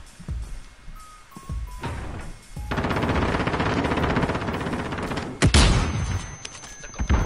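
Gunfire in the video game Warzone: scattered shots at first, then a long sustained burst of rapid automatic fire and a sharp loud crack near the end, close and prominent.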